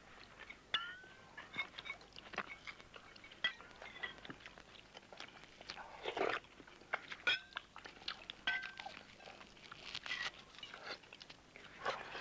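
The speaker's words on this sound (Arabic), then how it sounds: "يمضغ رشيد." Someone chewing food up close, a run of soft wet crunches and bites in an uneven rhythm, quiet and with no talk over it.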